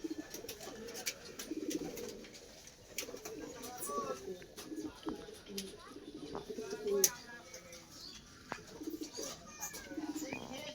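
Racing pigeons coo softly and repeatedly in a loft, their low murmuring calls continuing under faint background noise and occasional clicks.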